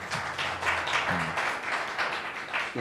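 An audience at a panel discussion on Chicago's economic development gives a soft, steady patter of applause that continues throughout, with faint voices murmuring underneath.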